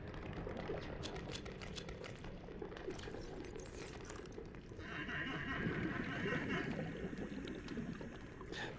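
Large sea cow creature in the video game Subnautica, calling with a drawn-out, faint, whinny-like cry amid underwater ambience, stretching over several seconds at a distance.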